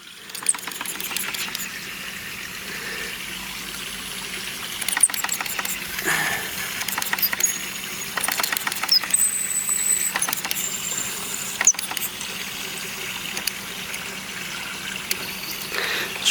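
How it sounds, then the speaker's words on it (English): A restored Mamod SA1 toy steam car hisses steadily as steam blows from its safety valve, with a soft continuous rush, faint sputtering and occasional small clicks close by. "we're blowing pressure out of the safety valve now"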